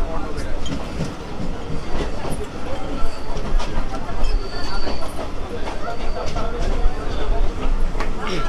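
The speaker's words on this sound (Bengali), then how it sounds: "তো বন্ধুরা ট্রেন আমাদের চলে এলো সিঙ্গুরে।" A local train on the Arambagh line pulls into Singur station, with a steady rolling rumble and rattling carriages throughout and faint voices mixed in the background.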